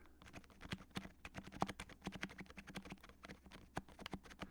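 Keys on an HHKB keyboard are pressed repeatedly in a quick, uneven rhythm, with faint clicky, squeaky keystrokes sounding close and quiet.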